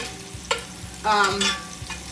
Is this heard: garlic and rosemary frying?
yes